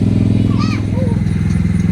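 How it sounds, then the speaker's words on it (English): A lawn tractor driven around by kids, its steady engine drone running throughout at moderate distance, with a few faint, brief voice-like sounds over it. "The kids are driving the lawn tractor around"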